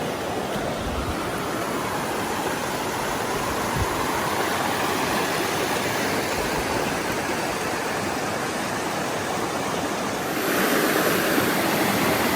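Loud, steady rushing water from a stream swollen by heavy rain, continuous broadband roar close by for the whole stretch, rising a little in intensity near the end, with no voices.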